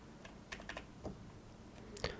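Brief scattered keystrokes on a computer keyboard, quiet and close, a few light clicks in a short irregular burst with a sharper tap near the end, no voices.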